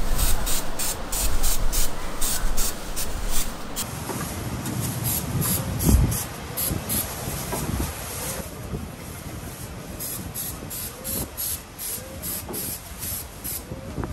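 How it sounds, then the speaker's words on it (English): Degreaser is sprayed onto a car part being prepped for carbon fiber skinning, a run of close, rapid spray hisses in quick pulses for the first few seconds, followed by quieter intermittent hissing and light handling noise. "Also gonna hit it with a degreaser, so this makes sure that the surface is actually really clean"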